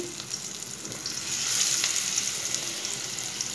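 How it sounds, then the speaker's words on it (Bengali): Hilsa fish coated in egg fries in hot mustard oil, giving a close, steady sizzle that swells louder midway as more pieces go in. Nobody speaks. "তো এই সরিষার তেলে এখন একে একে আমি ডিমে মাছগুলো ছেড়ে দিচ্ছি।"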